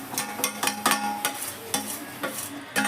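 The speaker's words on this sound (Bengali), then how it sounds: "এটাকে এবার পাক দিতে হবে।" Fried chana dal bundi is stirred into sugar syrup in a pan, making repeated scraping and clinking strokes at an uneven rhythm over a soft sizzle, close up, with no talking.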